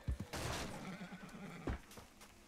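A horse in the Red Dead Redemption 2 video game lets out a loud, close whinny with a quavering, wavering pitch, bracketed by heavy hoof thumps at the start and near the end.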